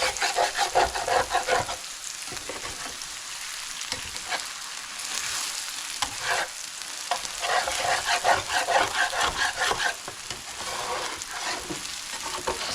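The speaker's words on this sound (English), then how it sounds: "Scraping hard because my pan wants to stick." Chow mein noodles with onions frying in oil in a pan that sticks, a constant sizzle with rhythmic hard scraping of a utensil across the pan bottom, close and fairly loud, no talking.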